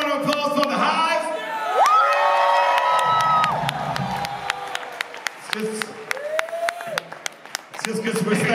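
Concert crowd at The Hall in Philadelphia cheering, whooping and clapping for a band, a loud, sustained roar with sharp claps and shouted whoops, and voices talking through it.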